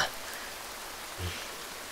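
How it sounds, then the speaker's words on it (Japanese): Rain falling steadily, a soft even hiss throughout at low level, with a faint low thump partway through and no talking. "今日予報って雨だっけ傘持ってないや"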